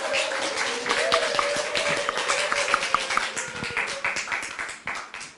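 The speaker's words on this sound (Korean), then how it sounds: "박수로 한번 환영하겠습니다." Church audience at a teachers' Sunday event clapping to welcome a presenter, a dense steady patter of many hands filling the room, with a faint tone running under it and no talk.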